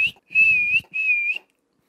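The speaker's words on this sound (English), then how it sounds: "But am I still whistling?" A person whistles two clear, sustained high notes, each held for roughly half a second, with a short gap between them and quiet before and after.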